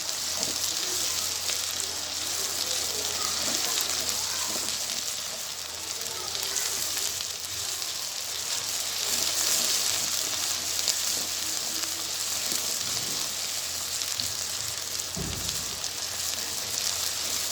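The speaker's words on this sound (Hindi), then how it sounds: "लहसुन अदरक और सब्ज़ मिर्च ऐड करके इनको हम भून लेंगे" Garlic, ginger and green chilies sizzle steadily in a hot pan, a continuous crackling hiss with an occasional clink of utensils.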